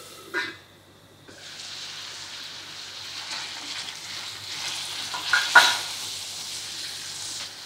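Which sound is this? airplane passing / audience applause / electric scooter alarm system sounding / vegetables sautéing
vegetables sautéing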